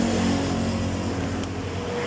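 A Honda PCX 160 scooter engine idles high with a fault that makes its idle unstable, a close, continuous hum with a steady low drone.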